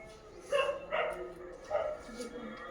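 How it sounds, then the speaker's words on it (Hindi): A dog barks in several short bursts, about three or four yips at moderate distance, over a background of room noise during a Hindi classroom-style lesson. "ठीक है कुत्ता"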